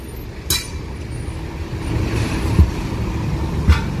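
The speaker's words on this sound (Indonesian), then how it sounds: "Masih macet di jalan, padat." Heavy, slow-moving road traffic in a jam, with a steady low rumble of car and truck engines. A few brief thumps and hissing bursts stand out over the continuous drone.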